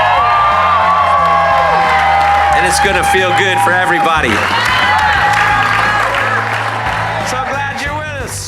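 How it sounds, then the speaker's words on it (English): Loud audience cheering and clapping with whoops and excited shouting over steady background music during a broadcast honoring children in hospitals, while someone talks over the crowd noise. "we're going to applaud them tonight."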